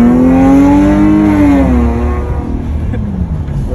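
A car engine revs hard through a loud, raspy exhaust with a droning, brassy tone that climbs then falls away into rough rumbling, close and dominant with no talking.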